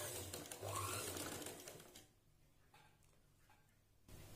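A sewing machine stitches frills onto a blouse with a faint, steady whirring run that stops partway through, followed by quieter handling noise.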